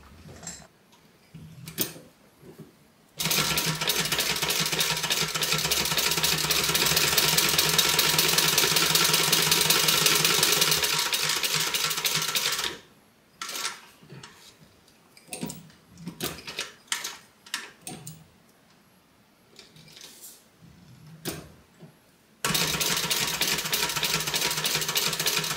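A sewing machine top stitches around a large opening, running in a long steady whirring burst, then sparse ticks and short runs, then starting again in a second sustained run, close and alone.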